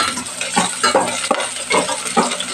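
Onions sautéing in a pan for egg tinola with chayote, with repeated stirring scrapes and light sizzling at a close, steady level, no talking.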